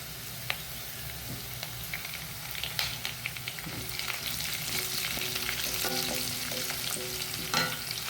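Curry leaves crackling in hot oil with popped mustard seeds while uppittu is being made, a steady close sizzle with sharp spits and scraping stirs throughout, growing louder toward the end, no talking.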